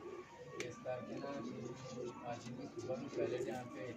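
A pigeon coos in soft, repeated low phrases close by while someone talks over it.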